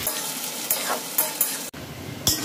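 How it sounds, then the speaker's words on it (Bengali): Chopped onions and bay leaves fry in hot oil for masala chole, giving a steady close sizzle broken by a few sharp stirring scrapes and clicks from the pan. "এবার এতে দিয়ে দিচ্ছি 2টো তেজপাতা, তারপরে দিচ্ছি কুচনো পেঁয়াজ।"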